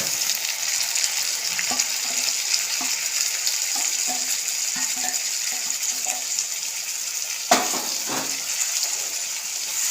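Tomato pieces and amaranth greens fry in a pan, a steady close sizzling hiss broken by soft scraping stirs and a brief louder clatter of the spatula.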